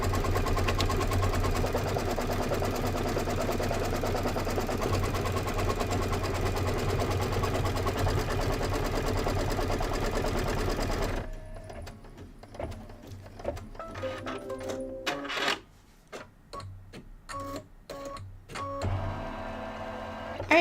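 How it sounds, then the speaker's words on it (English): A computerized embroidery sewing machine stitches a mushroom design for a quilt border, starting with a loud, fast, even mechanical whir, then turning to a sparser run of clicks, clacks and short motor bursts. "I'm going to hit start, and it's going to go ahead and do the little mushroom stitching"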